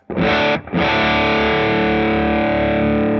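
Gibson Futura electric guitar in the middle toggle position with the neck volume rolled back to 9, heavily distorted: a loud chord struck twice, briefly choked, then left ringing and sustaining, with no talk.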